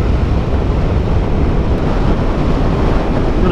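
Loud, steady wind roars and buffets a microphone continuously, a dense rumbling rush with no other sounds standing out.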